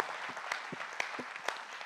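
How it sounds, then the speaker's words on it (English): Audience applause at a staff engagement Q&A session, a dense wash of many hands clapping for a short burst with a few sharper claps standing out, moderately distant and steady. "Give your neighbor a round of applause for making this wonderful,"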